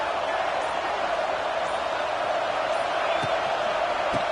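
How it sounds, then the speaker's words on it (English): A packed stadium crowd roars in the football video game College Football 26, a steady wash of massed voices that holds at an even level throughout, with faint thumps underneath. "listen to this crowd noise"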